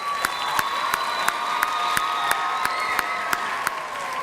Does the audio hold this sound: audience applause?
yes